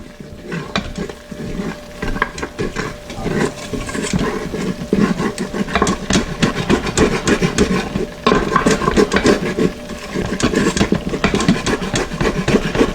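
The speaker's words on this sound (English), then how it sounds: "We want to scrape the bottom of the pressure cooker to get all the goodness off the bottom of it and incorporate it in that roux" A utensil scrapes and stirs roux across the bottom of a pressure cooker for chicken and sausage gumbo, making close, repeated rasping strokes with a faint sizzle underneath, steady and without talk.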